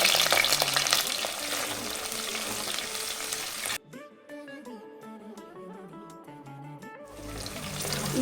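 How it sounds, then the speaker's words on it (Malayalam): Ginger, garlic and green chilli fry and get stirred in a pan for a Kerala-style fish curry, a loud steady sizzle that cuts out midway to a quieter tonal stretch before the frying noise returns. "ഇഞ്ചി വെളുത്തുള്ളിയൊക്കെ നന്നായിട്ടൊന്ന് മൂത്ത് വരട്ടെ."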